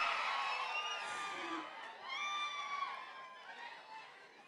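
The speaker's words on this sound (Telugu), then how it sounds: "ఒక్కసారి గట్టిగా చప్పట్లతో మన beautiful and talented Meenakshi చౌదరికి welcome" A crowd at the Mechanic Rocky film glimpse launch event welcomes actress Meenakshi Chowdhary with a loud wash of cheering, shrill whistles and shouts that rises, dips and swells again.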